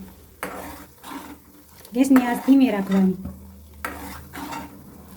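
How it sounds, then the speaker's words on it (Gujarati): A utensil stirs and scrapes through ghee being heated in a pot over a low gas flame, with a faint sizzle and someone talking over the clinks. "આમ ચલાવતા રાખવાનું એટલે ઉભરું ન આવે"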